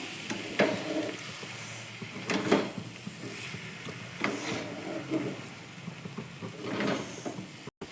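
Fish head and cabbage curry being stirred after chopped coriander goes in, with a few soft scraping strokes in the pot over a low background hiss.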